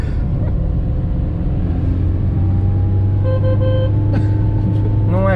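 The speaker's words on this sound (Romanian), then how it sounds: "Uite ce fel de motor face." A Dacia 1310 engine runs steadily while driving, a loud low hum with a rising tonal whine near the end and brief horn-like tones over it.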